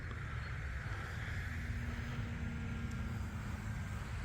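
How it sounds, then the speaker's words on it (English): An E-flite Decathlon RJG 1.2 m RC model airplane flies after takeoff on a rainy day, its electric motor a steady, even drone mixed with wind noise, with no voices. "Nice easy takeoff, using the rudder to bring it around."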